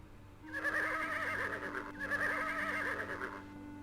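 A winged horse in the King's Quest VI adventure game lets out two loud, wavering whinnies back to back, each with a trembling pitch, over a faint steady game tone.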